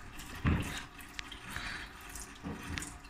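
A kitchen tap runs freshly after a broken pipe was repaired, giving a steady faint wash of flowing water with a few brief louder splashes and clinks, alone without talk.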